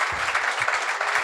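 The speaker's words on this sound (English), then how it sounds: "Round of applause, man. Let's have it." A brief round of applause from the audience at an adidas Originals x Manchester United panel talk in a Manchester store, dense steady clapping filling the room.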